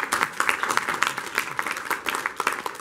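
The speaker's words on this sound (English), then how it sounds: "if we could please have a big round of applause for the panelists." Brisk, dense clapping from an audience applauding the panelists after a debate on blockchain in Asia, an even patter of many hands that continues throughout without a break.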